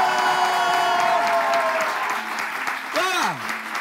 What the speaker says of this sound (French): Est-ce que vous pouvez faire du bruit et applaudir pour vous-même?